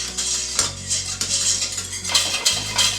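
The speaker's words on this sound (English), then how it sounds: "Medium heat, whisk it in, and we're trying to cook up all of that flour." A whisk scrapes and clatters against a pan as flour is worked into a béchamel over medium heat, a bright, continuous metallic swishing with a few louder knocks, close up over a low steady hum.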